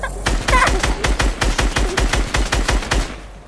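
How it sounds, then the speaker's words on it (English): Steady automatic gunfire in Fortnite, a rapid string of loud, close shots at an even rhythm lasting several seconds, with no talking over it. "Whoa, who's shooting me now?"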